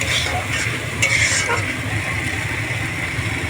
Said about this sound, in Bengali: খুব ভালো করে আমি কষাতে থাকবো এইভাবে